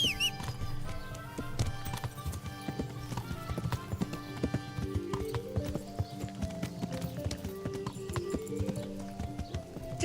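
Horse hooves clip-clopping at a steady walking rhythm in a video game setting, with music playing underneath.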